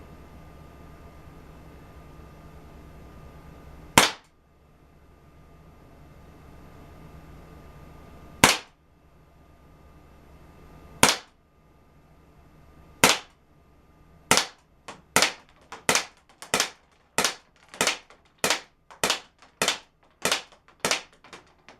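Dan Wesson 6-inch blowback air pistol fired while rested on a pillow: three widely spaced sharp cracks, then a quickening run of about a dozen evenly paced shots, loud and close with no talk.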